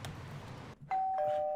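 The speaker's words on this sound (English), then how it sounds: "The doorbell rang." A doorbell rings in a home, a clear two-tone electronic chime that starts partway through and holds steady to the end, heard alone over faint room noise.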